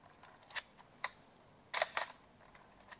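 Several sharp mechanical clicks of a 1960s Zeiss Ikon film camera shutter firing and film advance, close and crisp, including a quick double clack, over a quiet background.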